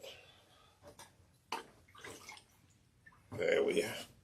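Water runs into a bathtub during hair washing with an oil rinse, in soft intermittent splashes and pours. It builds to a louder, steadier rush near the end, with quiet talk between the bursts.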